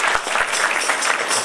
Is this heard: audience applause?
yes